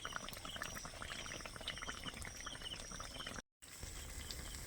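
Semolina mango malpua frying in oil produce a dense, even bubbling crackle that stays constant and fairly quiet, with a brief dropout near the end.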